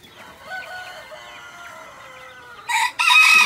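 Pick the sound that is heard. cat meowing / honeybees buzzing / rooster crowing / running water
rooster crowing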